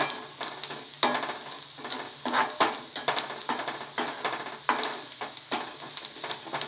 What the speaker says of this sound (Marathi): आता हे मिश्रण चांगल्यापैकी ढवळून घ्यायचं